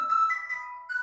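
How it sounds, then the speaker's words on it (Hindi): A phone ringtone from an incoming call plays a bright, close electronic melody of sustained tones that shift pitch, heard alone for about a second. "एक सेकंड, फोन आ गया"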